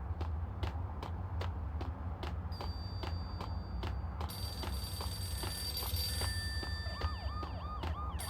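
In the video game Max Payne, a telephone rings with repeated electronic trills over a low hum and regular clicking footsteps, while a wavering siren-like tone rises in the background; no voices.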